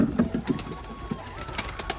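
Racing pigeons at a home loft, soft repeated coos close by over a faint steady whistle-like tone and light rustling, with no talk.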